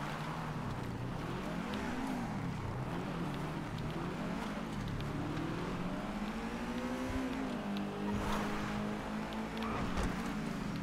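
Car engine from Grand Theft Auto V, steady and loud throughout, with the pitch rising and falling as the car speeds up and slows, ending as it brakes to a stop; no talking.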